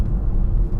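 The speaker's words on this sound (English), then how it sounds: "you can tell it's a diesel because it sounds quite gravelly, but it won't make your ears bleed" An Audi Q7 diesel engine idles with a gravelly low rumble, steady and fairly loud, heard briefly on its own.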